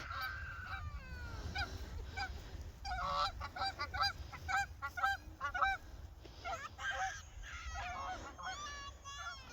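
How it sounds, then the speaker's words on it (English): A flock of geese honks outdoors near melting snow and waterways, repeated nasal calls overlapping in irregular bursts, moderately near, with a little talk in the background. "We have a few geese."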